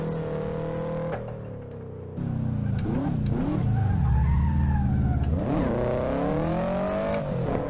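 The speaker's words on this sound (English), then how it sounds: "let's let the horsepower of this car unwind it a little bit here." A tuned Subaru WRX races up Pikes Peak in the driving game Assetto Corsa. The engine roars loud and close, swinging up and down through revs and gear changes, with brief tire squeal.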